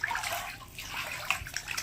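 Bathtub water is stirred by hand to mix in a dissolving bath bomb, giving close, irregular sloshing and swishing with small splashy peaks.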